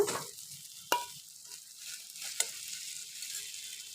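Boiled potatoes are added to a hot frying pan and stirred for a Bengali ghugni breakfast dish, giving a faint sizzle and two sharp scrapes of a spoon against the pan.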